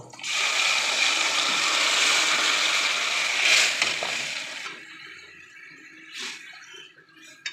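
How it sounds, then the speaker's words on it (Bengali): Water poured into chana dal cooking in a pan, a bright continuous pouring rush for several seconds that stops abruptly, followed by faint drips and a couple of small clinks near the end. "একটু পানি দিচ্ছি, আর একটু পানি দিব।"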